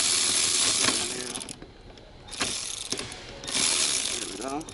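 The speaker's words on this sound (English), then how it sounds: "Got my ratchet." Ratchet wrench clicking during a push start button repair on a Nissan Maxima or Altima, rapid mechanical clicks in a few loud bursts separated by quieter gaps.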